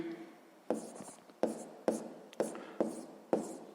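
Pen or chalk writing out a sixth-grade math solution, a series of about six sharp scratchy strokes spaced roughly half a second apart, close and fairly quiet with soft rubbing between them.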